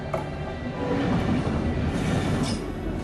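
A train rumbles steadily along railway tracks near Ghaziabad, a continuous, fairly loud low roar of wheels and carriages with faint metallic squeal, no voices.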